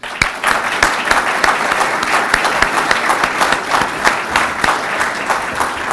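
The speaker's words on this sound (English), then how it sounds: "give a little round of applause to all the people who had to put this on" An audience at a public gathering claps for the event staff in sustained, dense applause that fills the whole stretch, loud and close.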